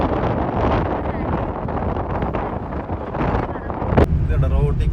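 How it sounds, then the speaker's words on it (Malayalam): Strong, dusty wind gusts along a high-altitude road near Pangong Lake in Ladakh, roaring loudly and steadily across the microphone with a harsher buffeting burst near the end. "റോട്ടിൽ കൂടി നല്ല കാറ്റുണ്ട്."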